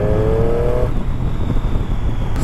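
A Triumph Street Triple S 660 A2-restricted motorcycle accelerates hard from around 50 km/h, a loud close engine roar with wind rush and a rising tone that fades into broadband noise.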